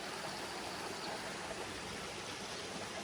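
A river streams steadily along a woodland trail, its broad, even rush of water close and loud with no pauses or voices.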